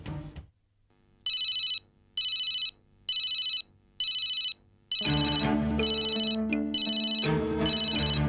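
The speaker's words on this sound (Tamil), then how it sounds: "டாடிக்கு போன் வந்திருக்கு" An incoming-call ringtone on a phone: a repeating electronic ring in regular bursts, loud and close, that shifts into a fuller melodic tune with deeper tones halfway through, with no voices.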